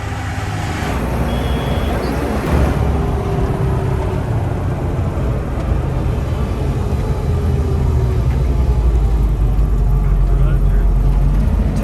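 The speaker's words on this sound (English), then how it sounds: "This time we have 4 wheels with a bigger motor." A four-wheeled vehicle with a bigger motor, driven on the road near the volcano at Bromo, Indonesia, rumbles with a steady low engine drone throughout, close and continuous, with people talking over it.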